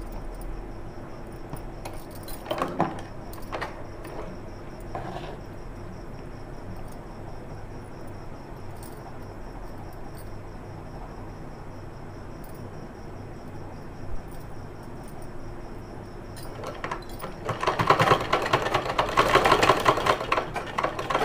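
Sewing machine stitching an umbrella-style baby frock, joining two cut pieces; a steady hum with short bursts early on, then a louder sustained run of stitching near the end, no talk.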